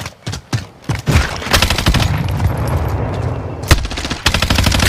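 Sustained automatic machine gun fire in a first-person shooter video game, loud and close, with rapid overlapping shots and a brief pause before another burst.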